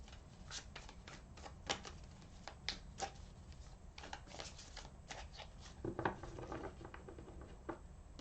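Tarot cards shuffled close up in a quick, irregular series of crisp riffles and soft slaps, steady throughout with no voices.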